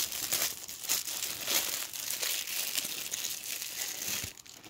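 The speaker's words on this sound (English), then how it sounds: "so we're going to pull the wrapper off" A plastic wrapper is pulled and peeled off a mystery butterfly toy, giving continuous crinkling and crackling with sharper tearing bursts throughout, close and fairly loud, with no talking.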